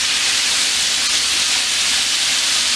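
Chicken pieces, about a dozen, deep frying in hot oil in a cast iron pan, a steady dense crackling sizzle that holds at even loudness throughout with no pauses.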